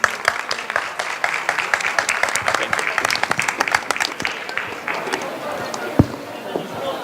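Applause from a panel audience at an MIT making and ethics event, a dense, steady patter of many hands clapping nearby, fading slightly toward the end with one sharper clap near the close.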